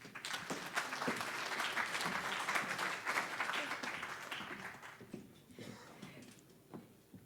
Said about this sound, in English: A round of applause for Kieran.